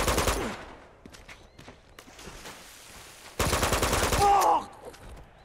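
Shotgun and weapon fire crack in Uncharted 2: scattered sharp shots early, quieter gaps, then a loud sustained burst of rapid fire near the end.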